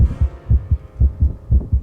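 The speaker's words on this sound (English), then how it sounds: "This is what most people's heart rate sounds like when they're getting their taxes done." A rapid heartbeat thumps in quick lub-dub pairs, low and close, with no other sounds.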